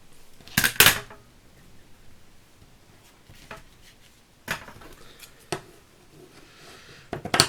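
Scissors snipping through Action lace for a Christmas card, a few crisp cuts and rustles at close range separated by quiet pauses, with no talking.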